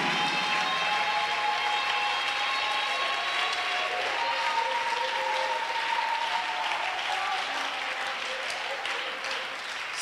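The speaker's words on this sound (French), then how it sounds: "give the Lord a big clap of praise" A church congregation claps in praise during a worship service, a dense, sustained round of applause from a large crowd that fades slightly toward the end, with faint sustained tones underneath.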